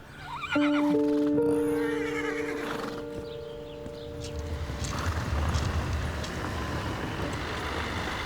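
A three-year-old horse gives a loud, close, drawn-out whinny that wavers and fades, followed by rumbling outdoor background noise that may include passing vehicles.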